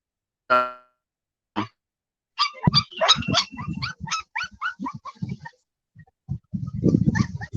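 Puppies in a kennel give a few short yelps and whimpers, then a run of rapid high barks and yips close by, with a rougher, busier patch of noise at the end.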